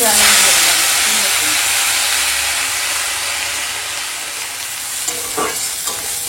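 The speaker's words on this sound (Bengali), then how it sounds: "এখন কুমড়ো ফুলগুলো ভাজা করে নেব। আর এখানে কড়াতে তেল গরম হয়ে গেছে" Pumpkin flowers seasoned with salt and turmeric sizzle in hot oil in a wok, a close, steady hiss and crackle that eases slightly over time, with a brief utensil clatter near the end.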